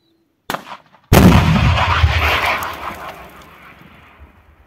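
A Stugna anti-tank guided missile launches outdoors: a faint pop comes first, then a loud, sharp blast that turns into a rushing roar and fades over several seconds.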